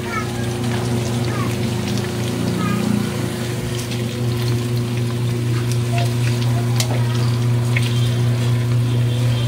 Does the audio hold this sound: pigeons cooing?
no